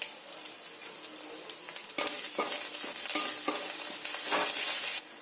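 Onion and garlic paste frying in hot oil in a pan, a steady loud sizzle with repeated scraping stir strokes throughout, no voices.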